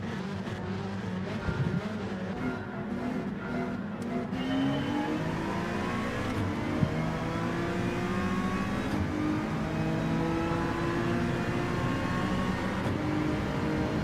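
A Citroen race car engine in Gran Turismo 7 drones and revs steadily, its pitch climbing and sliding through gear changes, loud and continuous with no talking.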